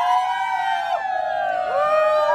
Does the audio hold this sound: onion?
no